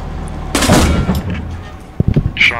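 A Panther tank's main gun fires in the World War II game Post Scriptum, one heavy close boom that rumbles and decays, followed by a few sharp mechanical clanks and a brief crackle.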